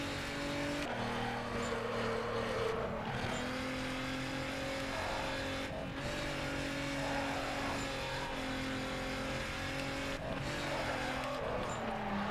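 A Volkswagen R32 Golf drifting in the racing game Need for Speed Carbon, its engine droning steadily with sustained tire squeal and brief gear-change dips, loud and continuous throughout.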